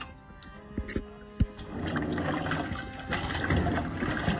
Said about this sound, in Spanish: le voy a dar como unas 4 enjuagadas hasta que el agua nos quede bien blanca